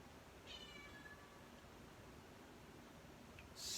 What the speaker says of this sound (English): Nobody in this house ever meows except for Stella